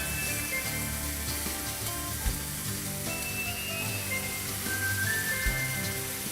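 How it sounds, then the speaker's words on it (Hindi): Potato puree heats in a pan with a steady, soft sizzle and faint frying crackle, continuous and fairly quiet throughout, with no talking. "So we'll put potato puree in a pan."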